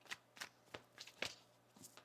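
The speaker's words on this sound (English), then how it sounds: "One more shuffle." Tarot cards are shuffled by hand in a quick run of about seven soft, close riffling taps, quiet and uneven.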